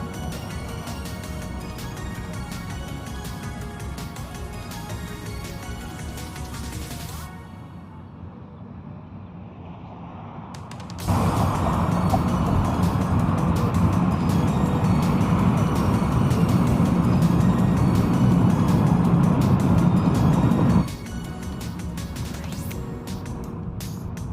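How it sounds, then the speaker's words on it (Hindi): A car driving at speed on an American road, giving a continuous broadband road and engine roar that drops briefly to a quieter stretch, then swells louder for about ten seconds before easing back, with no talk. "बहुत स्पीड माने से गाड़ी चलती"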